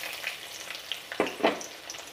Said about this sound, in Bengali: এবার আমরা কুচানো পেঁয়াজটা দিয়ে দেব।